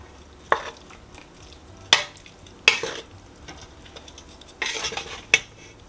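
Spoon or spatula stirring pasta and eggplant in a metal pan, with several sharp scraping clanks spaced unevenly over soft background stirring and light sizzle.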